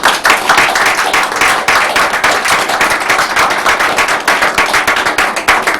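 Audience at a COPA 2010 conference on the JFK assassination clapping together in sustained, dense applause that holds steady throughout, many hands close and loud with no talk over it.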